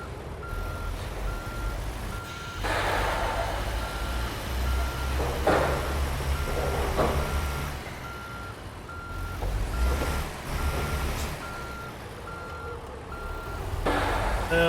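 A truck in American Truck Simulator reverses while parking a trailer, its steady, regularly spaced backup beeps sounding over a low idling diesel rumble, with surges of engine noise and sharp hissing air-brake bursts.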